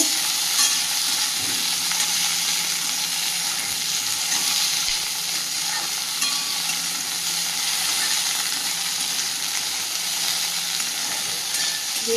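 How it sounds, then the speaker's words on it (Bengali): Okra frying lightly in a pan, a steady, close sizzling hiss that runs evenly throughout with faint stirring, no voices. "ভেন্ডিগুলো একটু হালকা করে ভেজে নেব"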